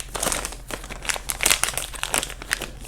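A self-sealing plastic bag holding spare propellers for a Runner 250 drone kit crinkles as it is opened, a close, busy run of sharp crackles and rustles with no talk.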